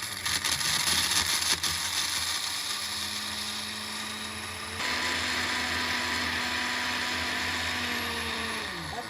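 A small electric kitchen grinder runs steadily, milling dried ginger (sonth) into powder, with a loud continuous whirring hum whose pitch shifts partway through as the load changes.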